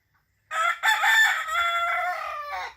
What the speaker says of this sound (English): It's so nice waking up to the sound of the rooster.